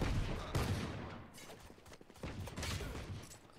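Rapid gunfire from a Valorant match, dense overlapping shots in a fast continuous volley with no voices.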